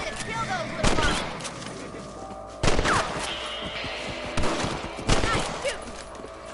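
Rifle shots in a video game, a few sharp loud cracks spaced a second or two apart amid background game ambience, with voices talking between the shots.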